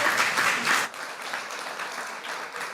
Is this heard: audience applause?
yes